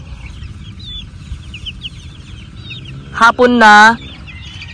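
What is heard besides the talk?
chickens clucking on a farm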